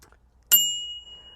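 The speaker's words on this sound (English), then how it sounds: "Look, I've even got my bell on there from PBP." A single bright ding from a bicycle bell mounted on a steel road bike, struck once with a ringing tone that decays slowly over about a second, close and clear after near silence.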